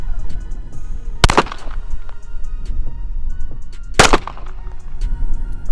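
Two sharp 9mm pistol shots, a few seconds apart, loud and close against a quiet outdoor background at a range.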